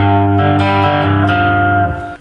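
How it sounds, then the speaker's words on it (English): Electric guitar plays the G lick from a song in open position, a short sustained run of ringing notes that fades out near the end, played alone with no talking. "So for reference, here's the G lick."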